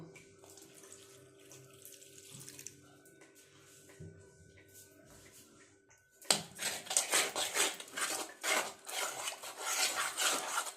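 Water pours from a tap into a bowl of cornflour and biscuit crumbs for an egg devil coating, a sudden loud splashing rush after a quiet stretch of faint kitchen sounds.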